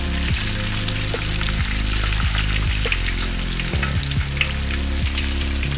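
Plantains frying in the same hot oil used for the fish, a loud, dense, continuous sizzle close up, with occasional scraping knocks of a utensil against the pan.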